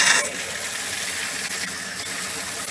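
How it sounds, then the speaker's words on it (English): A powerful caravan shower in the washroom of a 2020 Swift Sprite Alpine 4 runs off the onboard water pump, giving a steady, close hiss of spraying water that holds evenly throughout with no talk. "Nice powerful shower on these vans with the pump system it's got on board."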